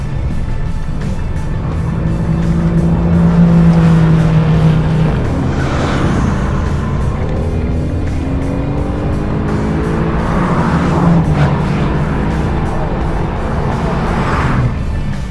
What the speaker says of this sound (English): It has immense grunt from that twin-turbo V8